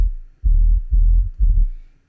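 Deep sub bass made from a kick sample, heavily compressed and sidechained to the kick, swells in three pulsing bursts, ducking to silence between each in a pumping rhythm, with no other sounds.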